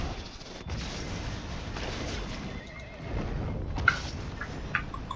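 A horse neighs in a video game battle, with hooves clip-clopping over a steady wash of fighting noise and brief sharp impacts.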